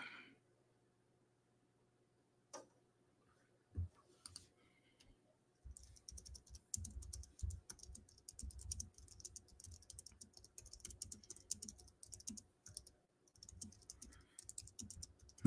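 Fast bursts of typing on a computer keyboard, close and crisp, with a few isolated key clicks before a sustained run of rapid keystrokes broken by short pauses; no voices.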